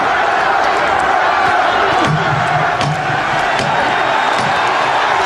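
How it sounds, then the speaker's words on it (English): A boxing arena crowd on its feet cheering and roaring loudly after a heavyweight bout, a dense continuous wall of shouts and applause with scattered sharp claps throughout. "The crowd on its feet."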